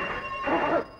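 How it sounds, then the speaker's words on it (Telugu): A telephone rings in a short, bright burst of ringing that swells briefly and then cuts off, fairly close and loud, with no talk. "ఏమిటది ఫోన్ చూసావా"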